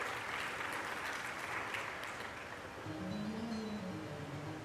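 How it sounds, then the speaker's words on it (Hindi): An audience at a Shrimad Bhagwat Katha religious discourse applauds with a dense, steady clapping that slowly thins out as a low voice and tones return. "ताली बजा दिया करो।"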